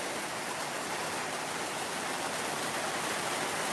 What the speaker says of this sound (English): Sound of hail on tin roof.